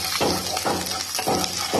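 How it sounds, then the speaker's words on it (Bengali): Pieces of onion sizzle in hot oil in a wok with panch phoron, with soft, steady frying and periodic stirring bursts, no talking. "এবার পেঁয়াজের টুকরোগুলো দিয়ে দিচ্ছি, নাড়াচাড়া করে একটু লাল করে ভেজে নেব"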